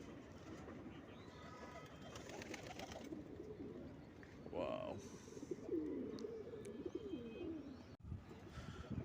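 Bombay pigeons coo softly in a loft at feeding time, a few low throaty coos standing out over a busy, faint background with some voices and light clatter.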